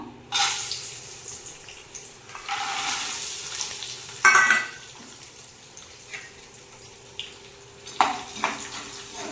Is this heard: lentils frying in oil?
yes